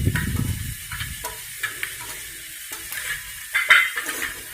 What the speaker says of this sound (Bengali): এটা তেলের মধ্যে ভালো করে নাড়াচাড়া করে মশলার সাথে সব মশলা একইভাবে মিক্স করে ভেজে নিচ্ছি।